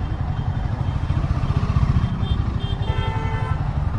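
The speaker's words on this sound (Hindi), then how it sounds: "अभी देखो तीसरे गियर पे है और मैंने डाउन नहीं करा, कोई इशू नहीं है, बाइक स्टॉल नहीं हो रही है" A Royal Enfield Himalayan motorcycle runs along the road in third gear with a steady, close engine throb. Brief traffic horn toots sound in the background.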